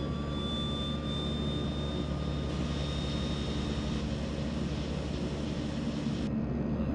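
In the Flight Simulator X video game, the left engine of a Twin Otter spools up with a steady turbine whine and rising tone over a constant engine drone, alone and without talk.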